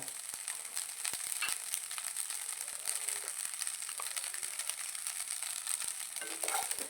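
Egg with chilli powder frying in a pan, for a Kerala-style egg fry, gives a steady, fairly quiet sizzle with scattered crackles and light scraping clicks throughout.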